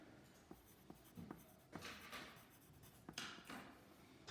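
Pencil scratching on paper in quiet, close-up strokes: short taps at first, then longer scribbling passes, faint and uneven in rhythm.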